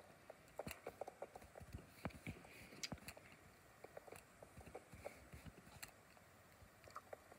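Horses' hooves clip-clop steadily in a video game, a dense run of soft irregular clops over a faint background hiss with no talking.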